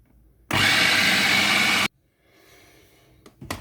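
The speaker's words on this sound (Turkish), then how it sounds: "Çünkü rondomuz hala zorluk çekiyor." A food processor churns a tarhana soup mixture at full power with a loud, steady whir for over a second, then cuts out abruptly. Softer handling noises follow.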